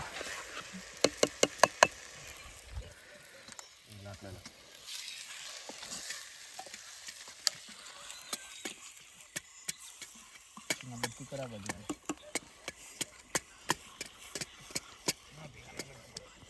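Green chickpeas roasting in a pan: a low sizzle carries sharp, scattered clicks and knocks of the chickpeas shifting and popping against the metal, with occasional voices in the background.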